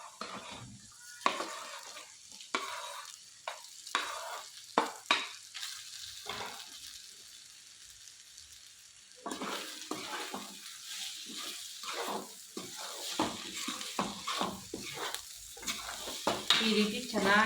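Pieces of idli sizzle and fry in a pan for masala idli, with bursts of scraping stirring and clinks of the spoon against the pan, settling into quieter frying midway before stirring resumes.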